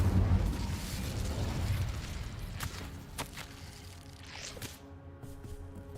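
A fire spell cast in the Hogwarts Legacy video game: a rumbling fiery burst that fades through crackles and a few sharp pops, settling into a quieter mechanical tail.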